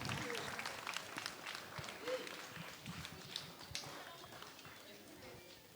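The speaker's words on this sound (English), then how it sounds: "Please, everyone, clap for them." Audience applause after a Class XII school street play about civic sense and Independence Day: dense, steady clapping from a crowd, with voices mixed in, running throughout.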